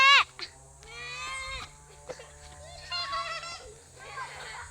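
A goat bleats several times in open countryside, wavering cries that rise and fall. Children's voices and faint outdoor bustle continue behind it.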